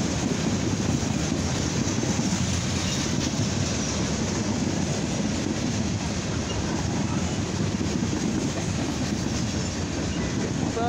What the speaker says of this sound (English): Look at this, folks. We got coal train.